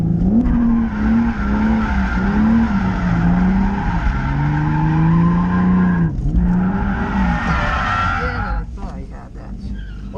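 Car drifting through a big turn on wet pavement in the rain, its engine droning steadily while tires skid and squeal continuously for several seconds, briefly easing off near the end.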